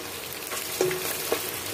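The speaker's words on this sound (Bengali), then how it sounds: "ফার্স্টে পেঁয়াজটাকে ব্রাউন কালার করে ভেজে নিচ্ছি।" Onions fry in oil in a pot, browning for beef kabab biryani, with a steady close sizzle and a couple of faint stirring knocks, no voices.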